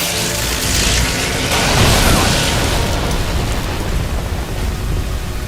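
A boss fires a lightning orb attack in a video game, a loud, sustained crackling roar of dense noise that swells and then holds steady like a rumbling electrical blast.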